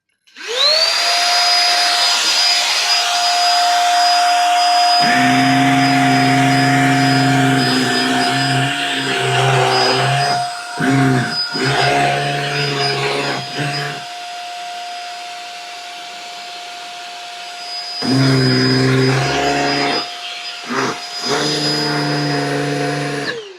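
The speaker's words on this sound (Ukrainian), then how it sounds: "перший прилад, який ми будемо сьогодні ремонтувати, це ось такий пилосос" A household vacuum cleaner with a faulty turbo brush runs loudly and steadily with a high whine, its motor pitch dropping and rising several times as load changes, briefly cutting out near the middle before resuming.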